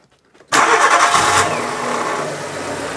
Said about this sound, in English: Can we listen to it if you start it up?